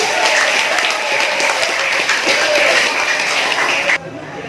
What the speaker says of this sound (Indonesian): Tepuk tangan untuk adik-adik